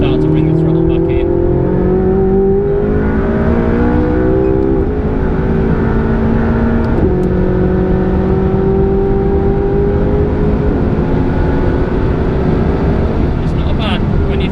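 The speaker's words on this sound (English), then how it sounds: "It's not bad when you think that's a full-blown race car on slicks." A McLaren 675LT race car on slicks accelerates hard around a track, its engine note climbing through the gears with loud, steady revving and brief dips at shifts, heard close throughout.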